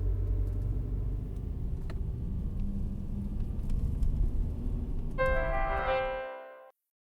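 A car drives along in an audio drama, a steady low engine rumble that holds for several seconds. A brief chiming tone joins it near the end before everything cuts off abruptly to silence.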